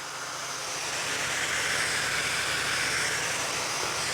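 A garment steamer steaming a suit gives off a steady, close broadband hiss that holds constant throughout.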